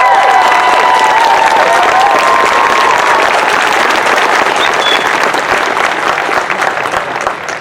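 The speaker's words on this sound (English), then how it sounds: "So if you guys can also keep the applause going as we introduce our next one." Loud, sustained applause and cheering from an outdoor crowd at a rally on a city hall lawn in Monterey, California, continuing steadily with scattered shouts throughout.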